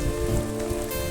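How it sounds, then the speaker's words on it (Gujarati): Heavy rain pours down at Saputara, a dense, steady hiss of drops striking surfaces close by, unbroken and loud throughout the short stretch. "અત્યારે તો ખૂબ વરસાદ ચાલુ છે અહીંયા"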